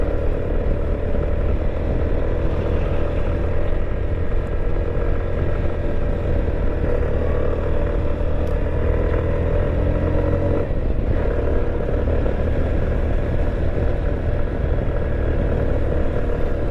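Motorcycle engine labouring up a steep hill road on a bike tour in Bandarban, Bangladesh, after a downshift, a steady, loud, continuous drone close by with no talk.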